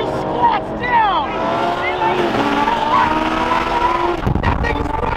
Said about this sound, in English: if you guys can hear that, that supercharger's wild